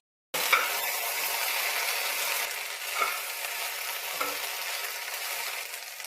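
Chopped onion and okra fry in a pan with a steady, fairly quiet sizzle after a brief silence at the start. There are a few soft stirring clicks.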